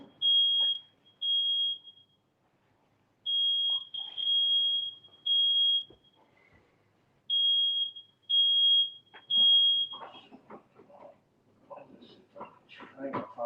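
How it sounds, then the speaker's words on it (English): A smoke detector gives loud, high, piercing beeps in short bursts with irregular gaps, about seven in all, and then handling noises and muffled sounds follow. "I'm about to take this smoke detector out"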